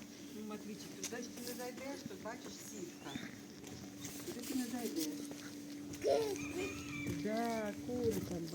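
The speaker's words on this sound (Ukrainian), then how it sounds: "Але зато є півники і курочки." Hens and roosters cluck nearby while people talk over them, against a steady low hum.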